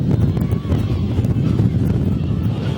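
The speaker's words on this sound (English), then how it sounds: "Boy, all of a sudden we get a gust of wind up here up top." A gust of wind buffets the microphone high up in a football stadium press box, a loud continuous low rumble that masks everything else.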